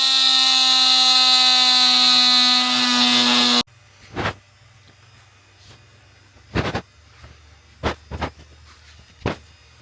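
A power tool works on a pressure recovery cone half for a Mazda-powered ducted fan light aircraft, running as a loud continuous whine for several seconds and then stopping, followed by sharp scattered knocks and clanks.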